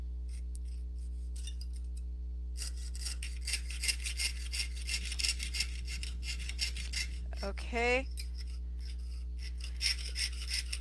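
Rapid, rhythmic rasping strokes of a hand saw blade cutting at close range during a sawing and piercing demonstration, with a brief spoken word partway through.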